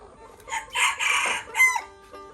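A large native chicken rooster crows a full, loud cock-a-doodle-doo nearby, rising and falling over about two seconds, with faint farmyard background and no talk.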